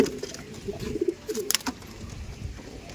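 A Giribaj pigeon in a loft coos in short, low, burbling phrases close by, with a few sharper clicks and rustles in the background.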